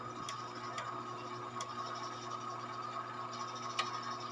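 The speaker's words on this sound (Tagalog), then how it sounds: "Maingay talaga ang motor. Parang may sumasabit." A noisy spin motor in a washing machine, opened up with its upper case removed, runs with a steady close whirring hum and faint ticking clicks, as though something inside is catching.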